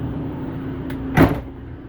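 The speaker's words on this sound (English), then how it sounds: "close the door here so you can see a little better" Door of a 2012 Forest River Solera 24S Class B+ motorhome shut once with a single firm thud and rattle, heard close over a low steady background hum.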